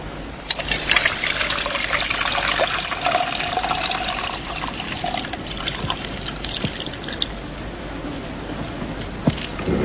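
Liquid pours steadily through a grass strainer in a continuous trickling rush, with a few small taps and clicks scattered throughout.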